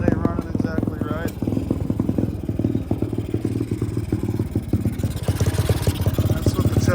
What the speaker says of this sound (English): I'm gonna order a carburetor for this thing because it ain't running exactly right